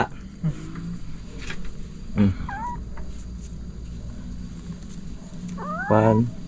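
A cat gives a few short meows over a steady background hum, with faint chatter and clucking-like sounds between them.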